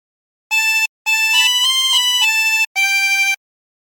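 A 24-hole tremolo harmonica plays a short phrase of Be Thou My Vision, four bright reedy notes with a wavering tremolo shimmer, separated by brief silences, clean and close with nothing else heard.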